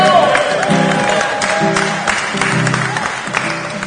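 An audience at a Windrush 75 celebration at the London Transport Museum applauds and cheers for the performer, dense steady clapping with scattered whoops over a pulsing music backing.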